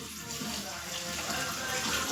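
Cold water runs steadily from a tap during washing in a home kitchen while Maggi noodles are being made, a continuous close splashing rush with no break.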